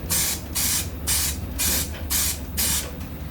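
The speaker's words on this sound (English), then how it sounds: "I'm going to spray it with some weld through primer" Weld-through primer sprayed from an aerosol can onto metal during a radiator mount fabrication on a Honda-powered Porsche, six short bursts of sharp hissing spray in a steady rhythm, close and loud, with brief pauses between.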